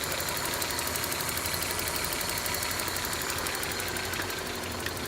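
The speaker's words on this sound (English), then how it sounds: "I do hear very distinct ticking. I think that's coming from these guys, the fuel injectors." A 1995 Geo Prizm engine idles steadily with a fast, distinct fuel injector ticking running over the hum, close and continuous.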